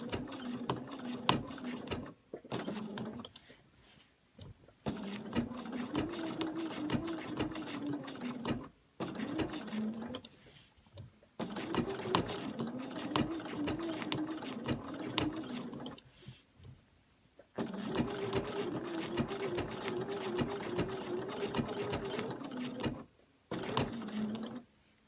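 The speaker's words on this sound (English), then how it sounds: "I'm making sure that the machine's completed all 3 of those stitches per section" A sewing machine runs close by while stitching a quilt, several sustained bursts of rapid mechanical whirring separated by short pauses, with little else heard.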